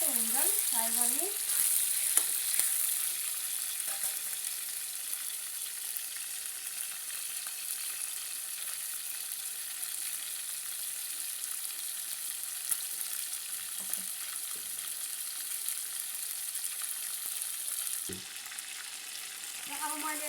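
Chicken marinated in salt and turmeric fries steadily in a pan, a dense continuous sizzle running throughout with occasional stirring scrapes, close and even in loudness.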